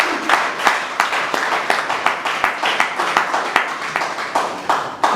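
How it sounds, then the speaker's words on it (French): An audience claps in a fast, regular rhythm, a steady run of sharp, evenly spaced hand claps that stays loud and consistent throughout. "Applaudissons très fort pour ça."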